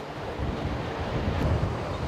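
Ocean surf pounds against a large rocky mountain cliff on the coast, a steady, full roar of breaking waves with wind buffeting the microphone and no voices.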